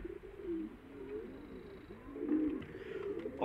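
Pigeons kept in a loft coo again and again in soft, throaty, rolling calls that overlap close by against a quiet background.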